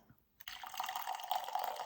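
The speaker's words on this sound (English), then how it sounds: "Just going to do a little splash of soy milk." A small splash of soy milk pours into a breakfast bowl of pumpkin spiced oatmeal, a short steady liquid trickle starting after a brief quiet moment and running close and fairly soft to the end.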